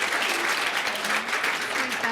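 Audience applause at a public discussion event on multiculturalism, a steady dense wash of clapping from a full room, loud and sustained throughout without break.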